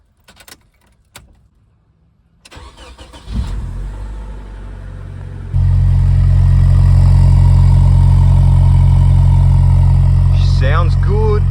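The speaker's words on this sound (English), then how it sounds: "you guys want to listen to that SR20 start up." A Nissan Pulsar N14 with an SR20DE engine makes a cold start: a few clicks and door sounds, then the starter cranks and the engine catches, settling into a loud, steady high idle with a brief voice near the end.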